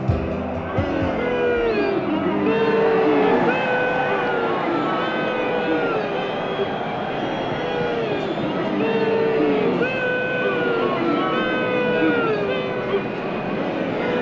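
A huge crowd of about 7,000 people at a 1992 concert booing a performer off stage, a dense, steady roar of jeering voices with rising and falling howls throughout.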